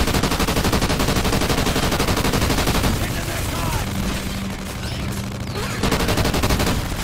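Sustained automatic gunfire in Call of Duty Ghosts Extinction, rapid bursts rattling continuously, easing briefly in the middle before picking up again, mixed with game effects.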